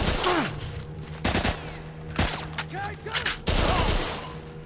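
Assault rifle fire in The Last of Us video game bursts out in several loud, sharp volleys, with a voice talking between and over the shots.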